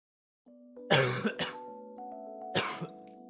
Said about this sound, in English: I have to like cough it out.